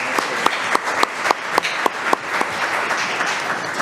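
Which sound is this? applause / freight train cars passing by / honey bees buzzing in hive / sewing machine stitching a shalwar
applause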